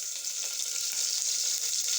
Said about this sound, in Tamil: இந்த அன்னாசி பூவும் 3 கிராம்பு, கொஞ்சம் பட்டை போட்டுறணும்